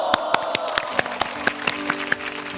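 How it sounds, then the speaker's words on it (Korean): A handful of sharp, separate hand claps from a small group in a Korean live news talk-show studio, about a dozen spaced claps over a steady low hum, with no talking. "박수"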